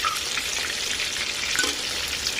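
Chicken pieces frying in a pan, a dense continuous sizzle with occasional stirring noises, close and steady throughout.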